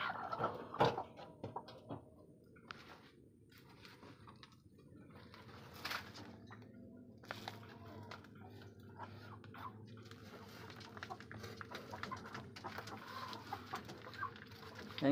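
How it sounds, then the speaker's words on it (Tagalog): A brooding hen that has sat on her eggs for five days clucks softly in a farmyard, with scattered low clucks and faint background rustling at a quiet level. "5 araw na siya naglilimlim"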